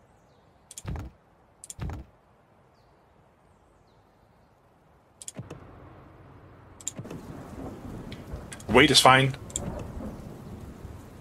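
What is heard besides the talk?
rain and thunderstorm in the video game Dustland Delivery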